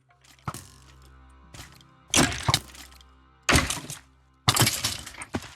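In Minecraft, a player in diamond armor is being shot at, and five sharp, cracking thunks land in turn. Each is followed by a brief rattling tail, with later hits louder and closer together.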